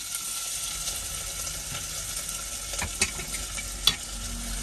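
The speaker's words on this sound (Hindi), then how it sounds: "तड़का लगाना शुरू कर लिया" Spices sizzle in hot oil for a tadka tempering during a truck trip, a continuous crackling fry with occasional sharper pops and stirring noises, close and fairly loud.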